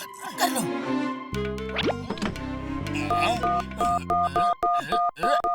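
Electronic telephone dialing tones in a Motu Patlu cartoon beep in short, regular pulses, ending in a quick run of evenly spaced keypad beeps, with cartoonish voices and effects earlier.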